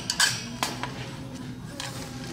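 Frying pans clank and clink together in a few sharp knocks near the start, then quieter handling over a low background hum in a Walmart in Toronto.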